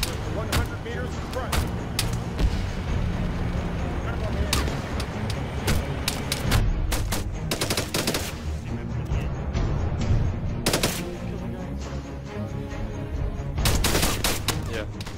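Close gunfire from a cavalry regiment's military exercise cracks out in sharp single shots and rapid bursts throughout, while soldiers' voices call out between and under the volleys.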